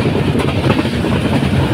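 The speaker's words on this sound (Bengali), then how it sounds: "ট্রেন এখন চলছে পুরো ঝড়ের গতিতে, ফ্ল্যাট 106" The Padatik Express rolls at about 106 km/h, a loud, steady rumble and rattle heard from inside with a fast clickety-clack over the rails, alone and without voices.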